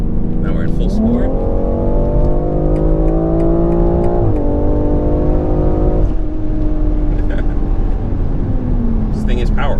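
A 473 hp BMW X3 M performance SUV engine in full sport mode accelerates loudly up an on-ramp, its rising harmonic drone stepping up through gears with brief shifts, while a person talks over it.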